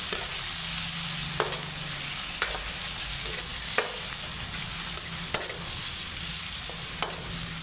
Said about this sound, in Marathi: आता हे मसाले सगळे मी तेलामध्ये फ्राय करून घेणार आहे